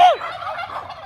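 Turkeys let out a short burst of rapid gobbling, close and loud, one call that trails off within about a second.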